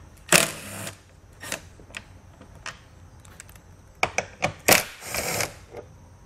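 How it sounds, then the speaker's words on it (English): Bolts holding a taillight assembly on a 2016 Subaru Outback wagon are worked loose with a 10 mm socket, giving scattered short ratcheting and clicking bursts, close and fairly loud, with quiet gaps between them. "We're going to remove both of those bolts using a 10 millimeter socket."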